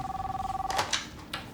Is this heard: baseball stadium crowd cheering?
no